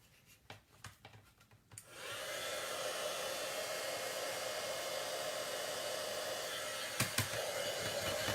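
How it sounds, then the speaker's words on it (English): A heat embossing tool starts after a few light taps and blows a steady, even whoosh of hot air, close and continuous, with a couple of brief knocks near the end. "Okay, so now let's use the heat tool. And let's emboss this."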